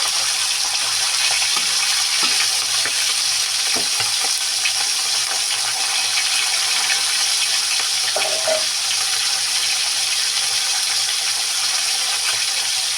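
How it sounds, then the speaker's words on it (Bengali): Rohu fish heads fry in a pan over gas, a steady broadband hiss of hot oil running evenly throughout, with a few faint knocks and a brief clatter of utensils partway through. "মাথাটা একটু ভালো করে ভাজা হয়।"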